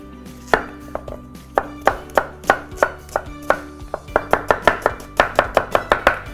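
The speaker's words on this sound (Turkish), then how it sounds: "Yemeklik soğanlarımı doğruyorum." A kitchen knife chops onions on a cutting board in a steady run of about twenty sharp, close chops that speed up toward the end, with no talking.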